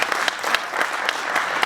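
A live audience at a youth talk in Pakistan bursts into brief, brisk applause, a dense patter of clapping held at an even level from start to finish.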